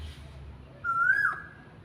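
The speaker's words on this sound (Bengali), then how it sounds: "দেখুন বন্ধুরা আবার কোকিল ডাকছে" A cuckoo calls once outdoors, a single rising then level whistled note at moderate distance over a low steady background hum.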